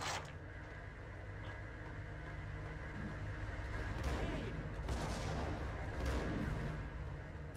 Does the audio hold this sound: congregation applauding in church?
no